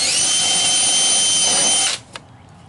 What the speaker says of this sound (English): gotta be careful not to drill too far.